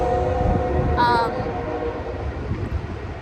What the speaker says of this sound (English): that's a train. There's a train.